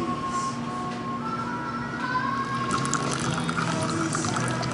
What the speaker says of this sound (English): Andy is pouring the tea, and you can see that it's very, very light